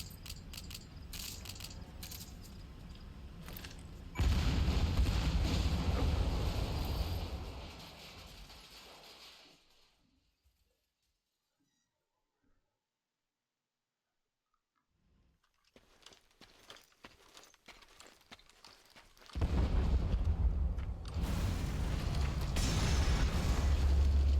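A separator tank blowing up in Metal Gear Solid 5: a loud, booming explosion with a rumbling, crackling tail that fades to near silence, followed by a second surge of roaring, debris-heavy noise.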